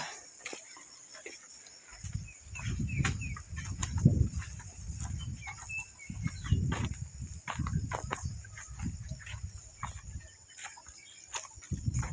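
Chickens cluck and call in a yard, close low clucks in repeated bursts over a faint steady background hum.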